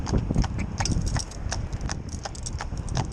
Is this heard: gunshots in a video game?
no